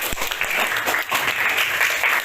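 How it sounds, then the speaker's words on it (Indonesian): A room of people applauding, a short dense burst of clapping close by that holds steady for a couple of seconds without voices on top. "terima kasih tepuk tangan untuk kita semua"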